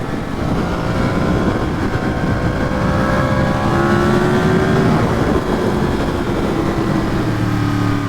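A Yamaha FZ-10 motorcycle engine runs loud and close in a steady, unbroken drone, with rising and falling whines showing shifts in revs throughout.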